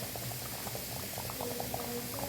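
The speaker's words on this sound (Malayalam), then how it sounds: "അത് വെട്ടി തിളച്ചുകൊണ്ടിരിക്കുന്നു" Fish curry boiling in a pot, a soft, steady bubbling with small pops, quiet and close, with no talking.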